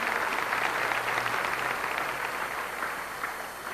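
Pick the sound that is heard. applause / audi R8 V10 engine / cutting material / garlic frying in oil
applause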